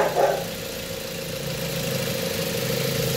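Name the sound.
car engine idling smoothly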